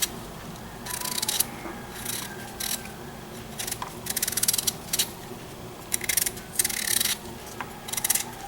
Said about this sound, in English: I just peel it like you normally would peel any sort of a vegetable